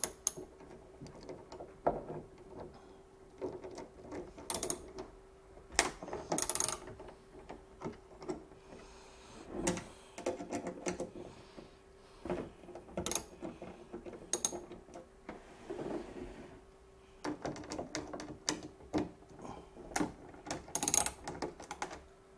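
A T25 bit ratchets and clicks as fasteners are worked loose from a Camaro wicker bill spoiler, with irregular bursts of faint mechanical clatter and short pauses between turns, quiet and close.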